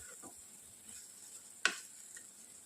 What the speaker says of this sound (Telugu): వేసుకొని ఒక 2 మినిట్స్ వరకు ఫ్రై చేసుకొని గ్యాస్ ఆఫ్ చేసుకోవాలి